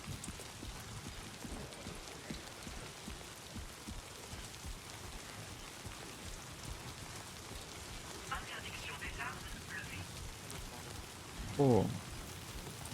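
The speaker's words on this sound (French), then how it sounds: "j'espère qu'il va s'arrêter de pleuvoir hein, sur le trajet." Steady rain falls throughout a Death Stranding 2 game scene, a constant wash of hiss with a few faint, brief knocks and a soft thud near the end.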